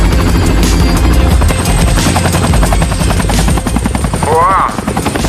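Helicopter lifting off, a loud close rotor chop pulsing rapidly and steadily throughout, with a brief whistling tone near the end.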